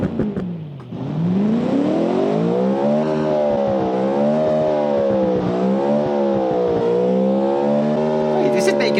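A 1960s-style supercar with a 1.4-litre engine making 140 horsepower, driven in BeamNG.drive, revs loud and close, its engine note rising and falling steadily through gear changes and throttle shifts across the clip.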